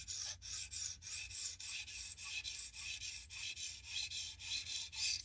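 A knife blade sharpened on a Tsprof Pioneer guided sharpening system: a steady run of rhythmic abrasive strokes, about three per second, heard alone and close.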